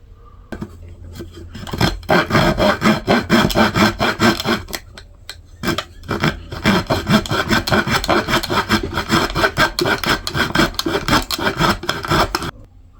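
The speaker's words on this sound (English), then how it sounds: "I'm going to get to cutting this out" Hand saw cutting through a wooden blank for a replacement hammer handle, with dense, continuous back-and-forth rasping strokes that begin near two seconds and run steadily close up, pausing briefly around the six-second mark before resuming.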